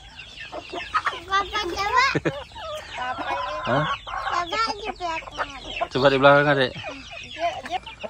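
Chickens cluck and squawk nearby, with one longer drawn-out call, while people talk over them.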